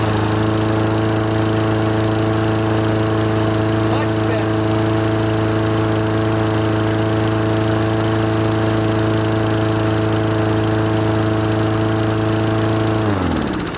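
A Toro lawnmower with a Tecumseh engine runs steadily and loudly at close range after a carburetor rebuild, holding a constant drone with strong harmonics before cutting off abruptly at the end.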